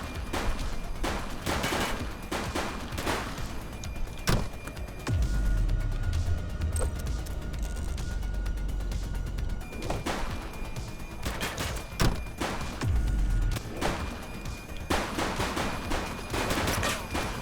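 Gunfire in The Precinct police game: loud bursts of rapid shots in clusters, separated by brief pauses with heavy low rumbling thuds, close and forceful throughout.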